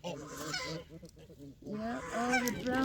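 Several domestic brown geese honk repeatedly at close range, loud nasal calls overlapping in a noisy chorus with a brief lull midway.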